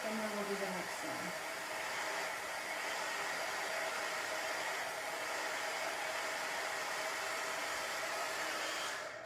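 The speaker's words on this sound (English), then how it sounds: "just use your hair dryer" A hair dryer blows steadily and close by to dry chalk paint on a honey bee tiered-tray sign, a constant loud airy whoosh running unbroken for several seconds before cutting off at the end.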